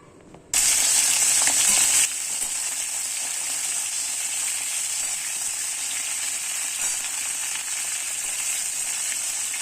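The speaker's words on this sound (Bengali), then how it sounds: "এবার ফুলকপিগুলো ভালো করে ফ্রাই করে নেব, অল্প অল্প করে দিয়ে" Boiled cauliflower florets hit hot oil in a pan with a sudden loud burst of sizzling, then settle into a steady, softer frying hiss that carries on alone.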